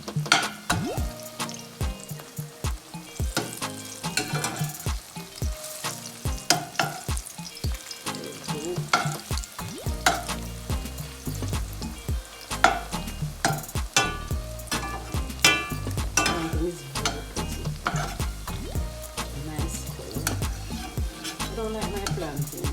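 Ripe plantain slices sizzle steadily in a frying pan while being turned, with a dense, constant crackle of hot oil and repeated scraping, clinking turns of a utensil close by.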